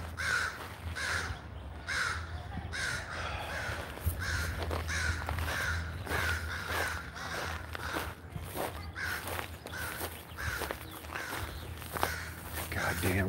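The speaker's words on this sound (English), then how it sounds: "Fucking crows, listen to that." Crows cawing repeatedly outdoors near a shop, a steady series of harsh calls at a fairly even rhythm over low background rumble, with footsteps and a person talking at times.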